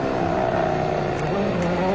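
A WRC Safari Rally car braking hard and turning in, its engine a loud, continuous drone with shifting pitch that fills the whole stretch alone.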